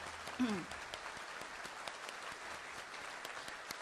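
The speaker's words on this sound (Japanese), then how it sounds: "拍手でお迎えください" An audience at a symposium applauds steadily to welcome a guest speaker, the clapping filling the hall continuously while a voice speaks briefly near the start.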